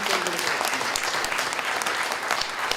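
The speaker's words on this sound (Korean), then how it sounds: "그의 용기에 다시 한번 큰 박수를 보내고 싶습니다" Steady applause from guests at a book launch celebration for an essay collection, dense, even clapping filling the room for a few seconds with a faint voice underneath.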